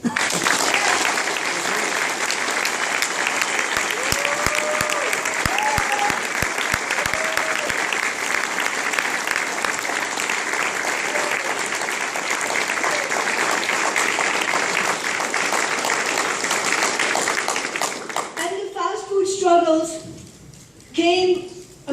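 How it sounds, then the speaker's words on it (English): A rally crowd at a Portland minimum-wage speech gives sustained loud applause saluting fast food workers, with some cheering mixed in, before the clapping fades and a voice begins speaking near the end. "I really want to salute them with an applause"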